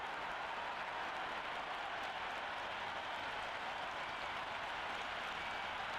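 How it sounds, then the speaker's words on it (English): Stadium crowd in the Cricket 26 video game, at a Zimbabwe vs West Indies World Cup match, cheering and applauding in a steady, dense roar that holds level throughout without pause. "this crowd is already making it hard for me to be heard"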